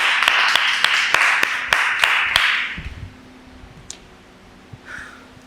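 An audience at a live public-speaking coaching session claps for a speaker coming up, a sparse round of individual claps that thins out and fades within a few seconds.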